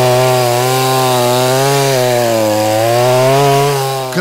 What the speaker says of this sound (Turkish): Kral testere Kingsaw benzini adeta koklar.